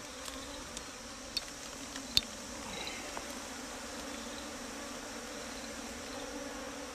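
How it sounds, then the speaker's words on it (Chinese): Thousands of bees in a thriving colony inside a dug-out earthen ground nest give off a faint, steady buzzing drone, with a few sharp clicks and taps scattered over the first seconds. "这窝有好多蜜蜂啊"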